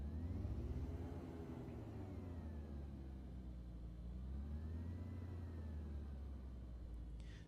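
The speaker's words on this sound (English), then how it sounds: "Just monkeying a bit with the throttle there to hear the jet fuel going through the diesel engine" Throttle play on a simulated Skyward Simulations aircraft diesel engine burning jet fuel in Microsoft Flight Simulator 2020, with a steady low rumbling drone whose pitch swells and eases slowly and stays continuous throughout.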